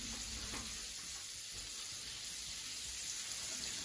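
Coconut-crusted crayfish frying in hot oil, giving a steady, dense sizzle and bubbling that stays at an even loudness throughout, with no talking.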